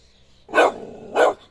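A neighbour's dog at a country dacha gives two sharp, close barks about half a second apart, with quiet pauses around them.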